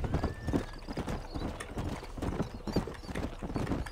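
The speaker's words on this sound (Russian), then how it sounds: "Вон, вот еще лошадка бегает." Hooves of a horse galloping in Red Dead Redemption pound in a steady, rapid rhythm, close and loud, with a short whinny early on and outdoor game ambience beneath.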